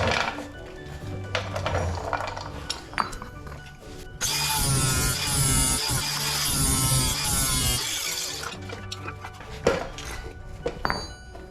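A grinder bites into metal on the outer axle of a Jeep JKU during a U-joint replacement, a loud, dense grinding roar lasting about four seconds, bracketed by scattered tool clanks and knocks.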